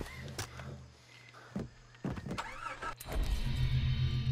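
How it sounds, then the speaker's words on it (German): A car in the video game Far Cry 3 starts up with door and mechanical clunks, then its engine settles into a steady, close, droning rumble. "Gleich nehme ich das Auto und fahre da einfach hoch."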